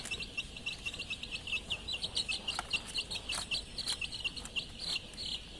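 Chickens clucking in a pen, a dense overlapping chatter of short clucks and calls with a steady insect-like trill behind them, moderately close, with no talk.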